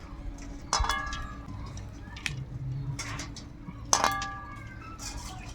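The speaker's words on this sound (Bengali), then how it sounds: "এবার ডিমগুলো দিয়ে সেদ্ধ করে নেব।" Eggs, local free-range hen's eggs, are set into water in a wok to boil: a couple of sharp clinks and knocks against the pan, spaced apart, with someone talking between them.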